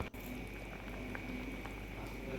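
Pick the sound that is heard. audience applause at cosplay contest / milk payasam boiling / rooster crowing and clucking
milk payasam boiling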